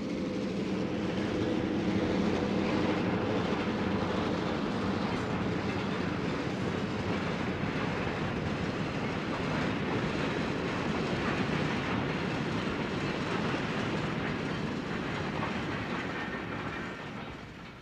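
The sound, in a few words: Western Pacific EMD F-unit diesel locomotive train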